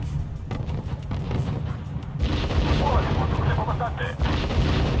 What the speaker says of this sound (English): Use the mortars. Do as much damage as possible.